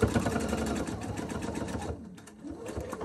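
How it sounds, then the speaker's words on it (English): A home sewing machine runs a straight stitch on a fabric scrunchie, a steady rapid mechanical whir with a short change in pace near the end where it back stitches to lock the seam, close and fairly loud. "I'm just going to put it on my machine, and I'm going to sew it with a straight stitch"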